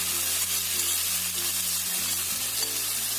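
Chicken meat stir-frying in a pan with wilted ginger, a steady close sizzle and frying hiss that runs unbroken throughout with no voices.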